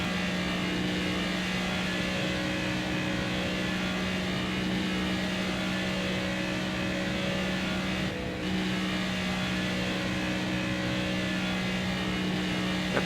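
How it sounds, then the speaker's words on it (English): A NASCAR Cup Series race car engine in NASCAR 25 drones at steady, strong revs with a constant humming pitch, loud and close, uninterrupted for the whole stretch with no talking. "Engine sounds strong here"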